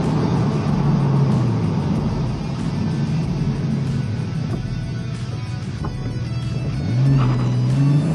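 Porsche 986 Boxster driving on a road, its engine droning steadily with wind and tyre rumble inside the cabin, then rising in pitch as it accelerates hard near the end, loud and close, with no talk.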